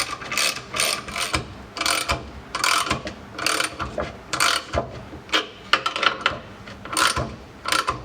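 A band clamp being tightened on a fuel pump during a road race chassis rebuild, giving repeated close ratcheting clicks in short bursts with brief pauses between them.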